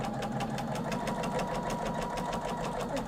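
A sewing machine stitches quilt blocks for a Yuletide sampler quilt, running steadily with a rapid, even mechanical clatter from start to finish, close and alone.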